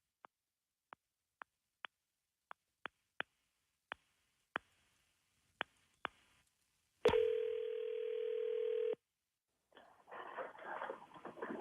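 Telephone call played back from a recording: a string of sharp dialing clicks, then a steady ringback tone lasting about two seconds, a brief silence and muffled line noise as the call connects.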